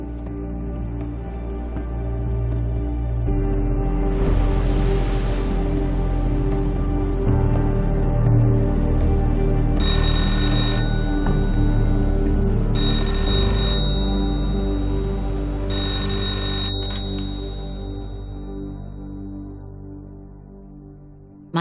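A telephone bell rings in three distinct bursts over a low sustained musical drone, fairly loud, with no speech.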